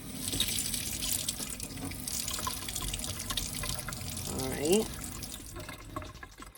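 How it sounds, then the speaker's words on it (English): Tap water runs steadily into a sink, a broad continuous wash under a brief spoken word and some background talk. "before we turn on the water"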